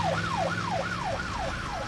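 A police car siren in a Bangla animated cartoon wails in a fast, repeating rise-and-fall pattern, loud and close over a low vehicle rumble, with no voices.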